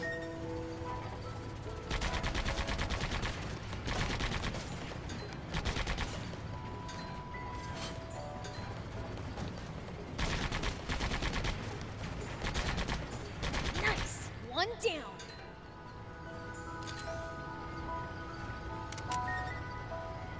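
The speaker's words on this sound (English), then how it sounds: "The tank gun should do the trick." A tank gun in the Sand Land game fires repeated bursts of heavy shots in several loud clusters, with clinking impacts between volleys and a sweeping mechanical whine partway through.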